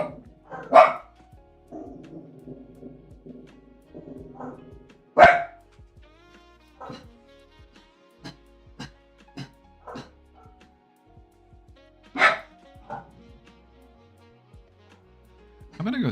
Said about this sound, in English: gonna go see what these dogs want real quick.